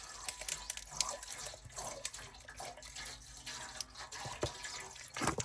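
Distilled water dripping and splashing onto paper for a marbled craft effect, a soft, close, irregular patter of small wet taps over a faint background hiss.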